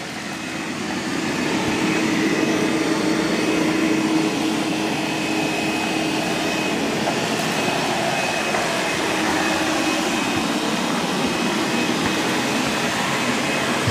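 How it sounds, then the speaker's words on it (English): A Roborock S8 MaxV Ultra robot vacuum vacuums and mops a floor at the same time, giving a steady close whirring hum with a faint tonal whine that holds level throughout, with no talking. "It's doing a really good job of vacuuming and mopping at the same time."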